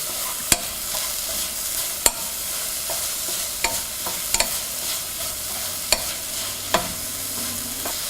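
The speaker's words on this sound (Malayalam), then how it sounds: "ഇതിലോട്ട് ആവശ്യത്തിന് സോൾട്ട് ഇട്ട് മിക്സ് ചെയ്യുക" Salt being mixed into cooked beetroot in a pan over a soft, steady sizzle, with a spoon knocking against the pan in sharp, irregular taps, close and clear with no talking.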